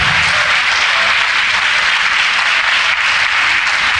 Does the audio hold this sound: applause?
yes